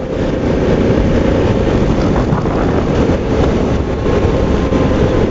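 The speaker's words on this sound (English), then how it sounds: "Just cruising around this roundabout now, not even opening the throttle." A twist-and-go automatic scooter rounds a roundabout at low throttle, its engine a steady low drone buried under heavy, constant wind rush, with no speech.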